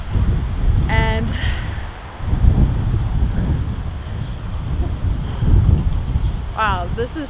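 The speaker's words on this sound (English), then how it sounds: "this is so fun filming in the wind" Strong wind buffeting the microphone outdoors, a loud continuous roar that swells and eases, with brief chirping bird-like calls near the start and end.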